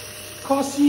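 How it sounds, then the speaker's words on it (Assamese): Mutton sizzles and fries in a pan with onions, a steady close hiss with brief bubbling pops and a voice briefly over it. "মাংসখিনি এতিয়া অলপমান দেৰি ভাজিম 5-10 মিনিটমান"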